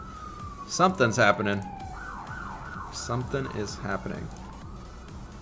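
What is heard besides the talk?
siren outside in the background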